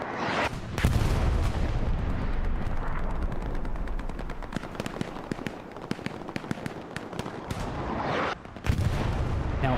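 Artillery and gunfire boom and crackle across a 30-versus-30 World War II battle on Omaha Beach, with repeated sharp blasts and rattling shots layered over a loud, continuous battlefield roar.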